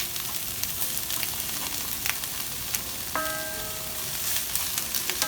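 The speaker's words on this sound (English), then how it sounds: "I have my sesame oil that's heated in my skillet. And then what I'm going to do next is to add my carrot and" Carrot and gobo burdock root sizzle in hot sesame oil in a skillet, a dense continuous close frying crackle with a short metallic ring of the pan partway through, no talk.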